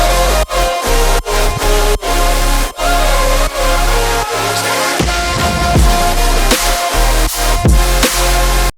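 An electronic track drop plays loud and dense, with pumping sidechained synths, vocals and punchy rhythmic hits throughout, briefly thinning midway before the full mix returns.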